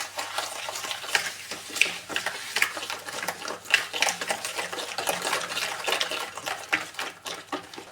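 Three eggs with a pinch of salt and a cup of sugar are beaten for a cake batter, making a fast, continuous clatter of quick strokes against the bowl that keeps going without pause.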